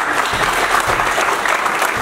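Audience applause for army soldiers from Kupwara and Handwara at a Mera Desh Meri Pehchaan national integration programme in Kashmir: a dense, steady clapping from a crowd, loud and sustained throughout.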